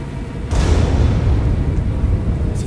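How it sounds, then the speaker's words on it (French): A loud, deep explosion erupts suddenly and rolls on as a sustained low rumble, heavy and booming with a synthetic, game-like quality, in Star Wars: The Old Republic. "C'était quoi ça? Une explosion?"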